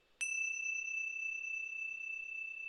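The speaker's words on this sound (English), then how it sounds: "that sound, or the sound of any bell" A single bell struck once for meditation, a sharp strike followed by a long, clear, sustained ring that hangs steadily without fading, heard alone in a quiet room.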